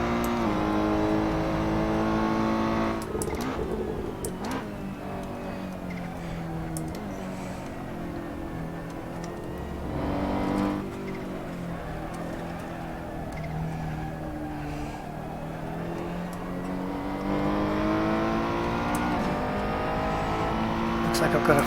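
A Ferrari race car engine roars in the Assetto Corsa racing sim, revving up and down through gear changes with a loud continuous howl, and someone talks over it at times.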